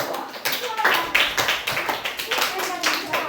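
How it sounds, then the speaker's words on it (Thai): Students in a classroom clap for a classmate during a science lesson, a short burst of scattered hand claps mixed with children's voices and talk. "ปรบมือให้เพื่อนหน่อยครับ"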